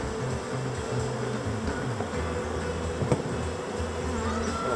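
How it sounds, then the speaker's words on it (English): Calm honeybees from a newly installed package hum steadily and close by in a hive, a continuous dense buzzing with no one speaking. "These are nice calm bees."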